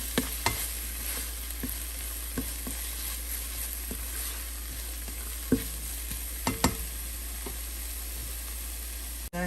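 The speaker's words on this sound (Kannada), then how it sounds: "ಜಸ್ಟ್ 1 ನಿಮಿಷ ಹಸಿ ವಾಸನೆ ಹೋಗೋ ತನಕ ಫ್ರೈ ಮಾಡ್ಕೊಳ್ಳೋಣ" Ingredients for squash paratha frying in a pan: a steady broadband sizzle runs throughout, punctuated by occasional sharp clicks and scrapes of stirring, with no talking.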